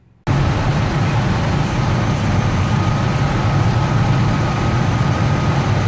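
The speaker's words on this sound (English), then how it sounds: "You can hear there's no change in the engine idle" A 4.6 liter truck engine with a plugged EGR valve idling steadily, a loud continuous low rumble that starts abruptly and holds an even drone throughout, with no one speaking.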